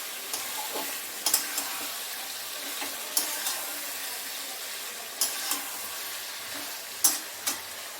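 Chopped onions frying in hot oil for biryani give a steady, close sizzle, broken by a few sharp clicks and scrapes of a stirring utensil against the pan.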